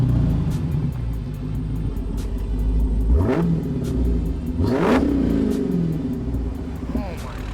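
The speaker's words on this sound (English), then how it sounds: "Give us a good rev before you get off there, okay?" A Dodge Hellcat engine idles with a deep rumble and then revs hard twice in quick succession, loud and close, with voices talking over it.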